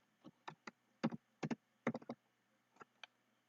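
Keys tapped on a computer keyboard while working in AutoCAD, a few quiet clustered clicks with short pauses, close and alone with no talking.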